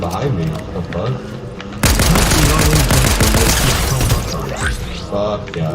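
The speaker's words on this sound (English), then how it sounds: "someone's shooting behind me" Rapid bursts of gunfire erupt in a Fortnite match, loud and dense automatic shots after a quieter stretch, with game sounds and a player talking throughout.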